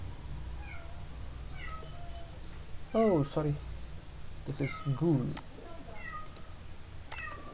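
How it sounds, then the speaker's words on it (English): A house cat meows several times in clear, close bursts around the middle of the stretch, while a person talks through most of it. "Sorry for that cat"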